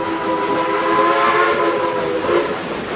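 Steam locomotive 743 hauling a train on the Dollywood railroad, a steady loud rumble of working engine and rolling cars with sustained tonal whistle-like ringing, continuous throughout with no talk.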